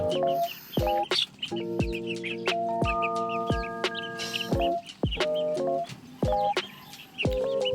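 Chickens cluck and cackle close by with loud, rhythmic calls, while young chicks peep at a high pitch in between as they are fed.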